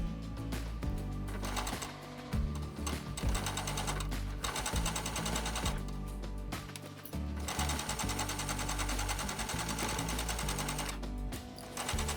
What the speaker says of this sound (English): I am just gonna line up my next rectangle, pin down my seam allowances, and sew.